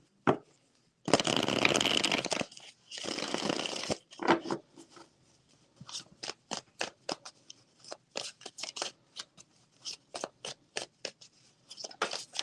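Tarot cards riffle in two long dense bursts, followed by many short crisp flicks and taps as cards are handled and laid down, close and quiet.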